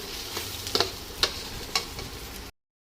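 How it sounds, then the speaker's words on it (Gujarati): Vegetable fried rice being stir-fried in a pan, a steady sizzle with a few sharp clinks of a spatula against the pan, fairly close and alone. "ફ્રાઈડ રાઈસ બનાવવાનું ચાલુ કરી દીધું।"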